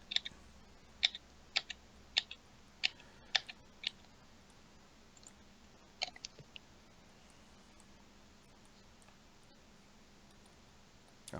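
Cards from a Star Wars Destiny deck being shuffled, a quick run of about eight sharp riffling clicks over roughly four seconds, then a few softer taps, close and fairly quiet against a low background hum.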